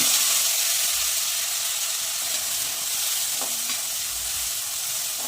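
Finely chopped onions fry in hot oil with asafoetida, red chillies and bay leaf, giving a steady, loud, close sizzle and hiss with an occasional faint stir and no voices.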